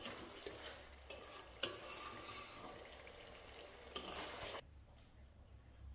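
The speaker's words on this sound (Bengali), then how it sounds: "সাইডে আমাদের ডিমটা কষা হচ্ছে।" Eggs sautéing in hot oil in a pan while cooking egg do pyaza: a steady sizzle and frying hiss with a few utensil stirs and scrapes, fairly close, no talk, the sizzle dropping away near the end.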